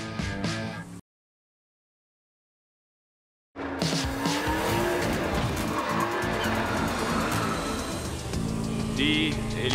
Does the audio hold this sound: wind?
no